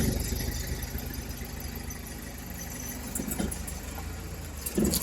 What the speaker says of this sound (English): So now I'm gonna try to see if this thing drives.